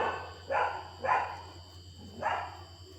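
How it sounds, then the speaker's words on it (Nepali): Dogs bark outdoors in three separate bursts, a mid-distance rhythm of yaps over a steady low hum, with no talking. "कुकुरहरू कति भुक्छ कि साथीहरू"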